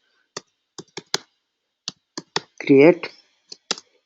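Keys clicking on a computer keyboard in short separated bursts, several quick taps in a row with pauses between, close and clear, with a brief spoken word partway through.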